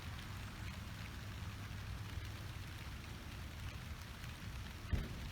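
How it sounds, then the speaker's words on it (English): Rain falling steadily on a front vegetable garden in early August, a dense even hiss of drops with one louder knock near the end and no voices. "it's starting to rain in earnest now"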